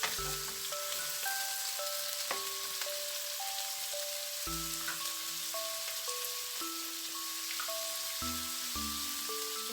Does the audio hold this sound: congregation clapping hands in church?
no